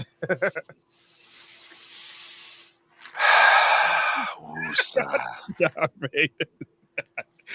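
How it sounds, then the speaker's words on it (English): Heavy, rough breathing and hissing exhalations come between stretches of speech, loud and close, with people talking before and after. "You're breathing heavy again."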